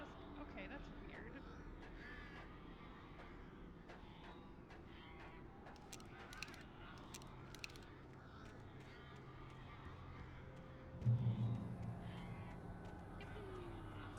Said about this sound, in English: Those birds sound so fucked up.